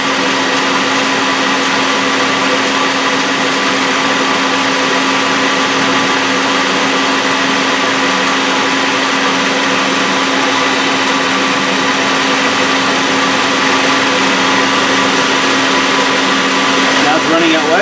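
A Citizen M20V 10-axis CNC Swiss lathe spins up to speed, giving a loud, continuous high whine with a steady tonal hum that holds throughout, with faint voices in the background.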